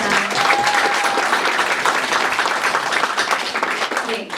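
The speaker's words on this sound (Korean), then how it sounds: "다시 한번 박수 부탁드리겠습니다" Audience applause at a political and education talk concert in Korea, a dense, loud, steady clatter of many hands that fills the whole stretch and eases slightly at the end.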